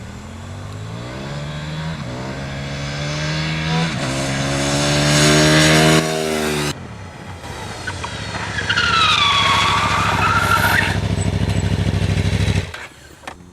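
A KTM 990 Supermoto motorcycle revs hard during wheelies on an airfield, the engine note climbing through the gears, dropping, then rising again in a loud, sustained roar before cutting off near the end.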